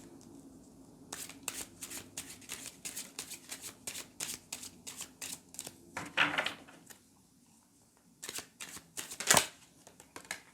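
Tarot cards being shuffled by hand at close range, a run of quick crisp riffling snaps and slides with a short pause before a final flurry, fairly quiet.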